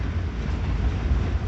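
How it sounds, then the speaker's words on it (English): An Amtrak passenger train rolls along the rails with a steady low rumble and rattle heard from inside the car, continuous and fairly quiet. "I'm on a train, like an actual Amtrak train."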